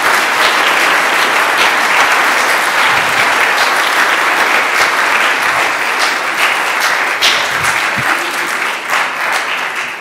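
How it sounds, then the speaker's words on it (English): Church audience at a community song event gives loud, sustained applause for child singers, a thick, continuous wash of clapping that holds steady throughout. "Please give these kids a great round of applause."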